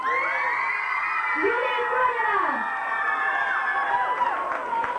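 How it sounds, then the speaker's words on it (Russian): At a 2005 local beauty pageant, an audience whoops and cheers loudly for a contestant, shrill yells rising over a constant crowd roar, while an announcer's voice speaks over the noise. "аплодисменты участницы под номером 1"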